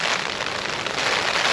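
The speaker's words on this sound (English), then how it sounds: "You cannot beat the sound of rain on a tarp." Heavy rain drums steadily on an ultralight tarp shelter at a solo wild camp, a dense, loud, continuous hiss and patter right overhead with no pauses.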